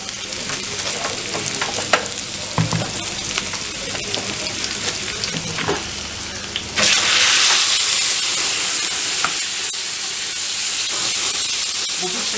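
Water poured into a hot pan of menemen at an old İzmir street menemen shop, bursting into loud, steady hissing sizzle while stirred, with scraping and clinks of the spoon against the pan and kitchen bustle behind.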